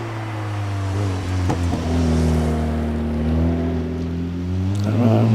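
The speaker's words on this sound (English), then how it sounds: "As Andrew Wilcox comes up towards Ettores in the Caterham Super 7." A Caterham Super 7 races up the Prescott hillclimb toward Ettores, its engine a loud, close, steady drone that holds a sustained pitch with slight rises and dips.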